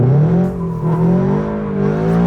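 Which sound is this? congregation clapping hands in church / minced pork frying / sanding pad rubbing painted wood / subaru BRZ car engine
subaru BRZ car engine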